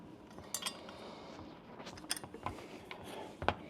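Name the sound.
tightening M6 bolts with a number 10 wrench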